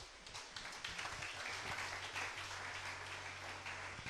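A church congregation applauding together, a steady wash of many hands clapping at once that holds for the whole stretch, with a low hum underneath.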